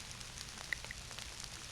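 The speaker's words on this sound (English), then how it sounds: "Absolutely raining cats and dogs." Heavy rain falls in a steady, dense patter outdoors during a nighttime thermal scope search, a soft continuous hiss with a couple of brief clicks, no voices.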